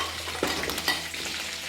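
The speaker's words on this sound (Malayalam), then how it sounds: "അപ്പൊ നമ്മുടെ സാമ്പാറിക്ക് വേണ്ട വെണ്ടയ്ക്ക ഒന്ന് വഴറ്റിയെടുക്കാം നമുക്ക്" Okra sautés in a pan for Malabar-style sambar, giving a brief, close, steady sizzle with a couple of quick stirring scrapes.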